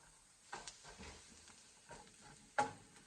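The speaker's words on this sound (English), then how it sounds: "we're going to give this a mix here" A spoon scrapes and stirs a thick split pea soup mixture in a pan. It sounds faint and sparse, with a few soft scrapes and one sharper clack near the end.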